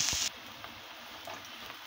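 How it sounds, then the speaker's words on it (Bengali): Onion, garlic and dried chillies frying in a pan for jute leaf bhaji, a soft close sizzle after a brief louder hiss, with a couple of light utensil ticks. "দেখুন পেঁয়াজ রসুন শুকনো মরিচটা ভাজা হয়ে গেছে।"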